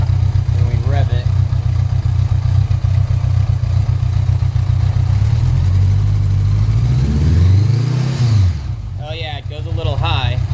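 Honda Goldwing engine fitted in a go-kart build, idling loudly close by and then revved in a rising and falling sweep before settling back to a steady idle.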